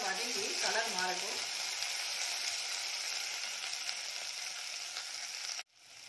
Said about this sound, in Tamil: இந்த வெங்காயம் நல்லா வதங்கி கலர் மாறட்டும்.